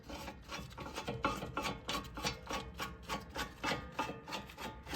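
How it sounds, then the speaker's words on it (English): Brisk, rhythmic ratcheting of a wrench tightening a brake caliper bolt on an Acura RSX, a steady series of rasping clicks up close with no talking. "Can you see the bolt I'm tightening?"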